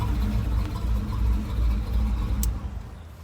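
A 1971 Chevrolet K5 with a custom all-stainless exhaust and cutouts idles with a steady, low, rumbling burble, close and continuous, with a brief sharp click near the end and no talk.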